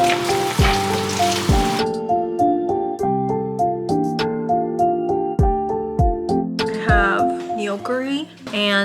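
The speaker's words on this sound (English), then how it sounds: "I'm air frying some tempura" Tempura shrimp sizzle in an air fryer, a steady bright hiss that runs on under layered tonal music with repeated sharp thumps, fairly loud and close.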